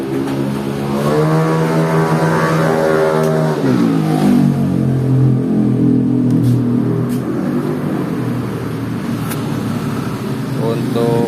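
Automatic siren wired to a 2025 Yamaha Aerox Neo scooter, a loud continuous wailing tone that sweeps up and down in pitch, steady and close throughout.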